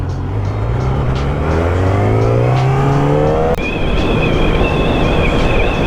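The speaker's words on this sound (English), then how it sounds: "These are some of the cars that pulled out." Cars, including a Camaro and a Nissan GTR, pulling out and accelerating nearby: loud engines rising steadily in pitch through the gears, with a continuous roar and a brief shift partway through.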